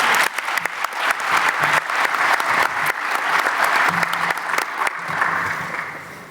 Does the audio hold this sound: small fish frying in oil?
no